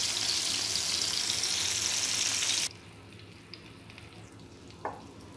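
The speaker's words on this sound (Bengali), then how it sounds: "তেলটা গরম হয়ে গেছে, সব মাছগুলো দিয়ে দিয়েছি ভাজার জন্য। এখন আমি মাছগুলো হালকা হালকা ভেজে নিব।" Large fish pieces fry in hot oil for a mustard-paste fish dish, giving a loud, dense, steady sizzle that cuts off abruptly midway, leaving quiet room tone with a faint clink or two.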